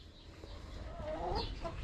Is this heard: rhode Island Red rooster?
yes